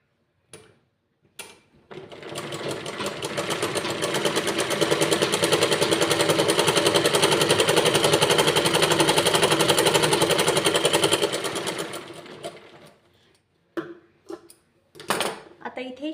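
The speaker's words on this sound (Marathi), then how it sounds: "आता हे इथे याला सुद्धा लगेच टाकून घ्यायची शिलाई दोन्ही क्रॉसपट्ट्या आपल्या एकदाच रेडी करायच्या शिलाई टाकून" A sewing machine stitching the cross strips of a four-tuck blouse runs as a steady, loud mechanical rattle for about ten seconds, framed by short clicks and handling sounds before and after.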